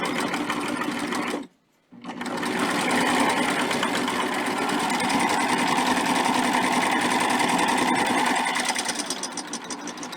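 A sewing machine stitches quilt binding with a binder attachment, running in a fast, continuous mechanical whir. It stops briefly near the start, then resumes and runs steadily up close until it eases off at the end.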